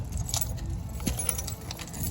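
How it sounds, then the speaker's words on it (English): A bunch of keys jangles near an apartment door while it is being locked, a steady close metallic rattling over a low rumble of a passing car. "Some of these keys, I don't even know what they go to."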